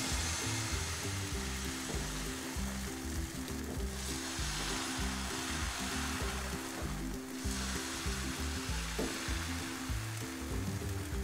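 Sweet potato dosa batter sizzles on a ghee-greased pan with a soft, constant frying hiss. Rhythmic background music plays underneath, and no one speaks.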